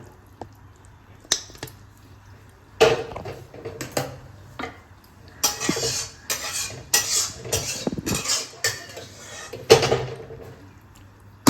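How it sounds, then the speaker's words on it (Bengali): Chili chicken being tipped out of a cooking pan in a home kitchen, with scattered metallic scrapes and clinks of utensil against pan, bursts of wet sliding and clatter, close and moderately loud, no talking. "এবার আমি এটাকে ঢেলে নেব"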